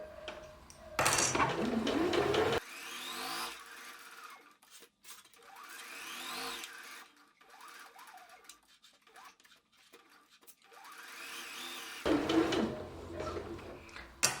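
A sewing machine stitches a snood in short whirring bursts at the start and again near the end, with quieter handling noises of fabric and the machine in between.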